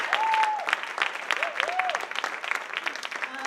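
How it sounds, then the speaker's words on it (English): An audience at a school STEAM symposium for 5th to 8th graders applauds the students, a steady patter of many hands clapping at moderate volume, with a few brief voices and whoops rising over it. "So a big round of applause again to these students"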